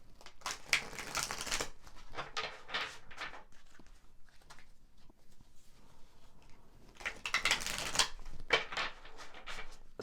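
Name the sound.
shuffling tarot cards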